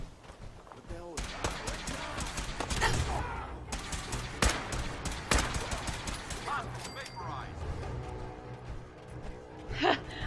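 Gunfire in Fallout 4 comes as rapid bursts of sharp shots, close and loud, in uneven clusters, with a voice talking over parts of it.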